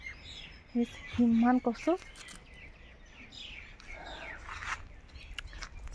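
Birds chirp outdoors in a green rural yard with taro plants, short calls scattered through light background noise while a person talks nearby.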